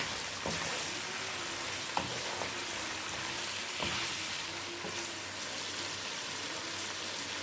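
Chicken karahi being mixed in a wok, a soft continuous sizzle of oil with occasional light knocks of a spoon against the pan, fairly quiet and close, no talking.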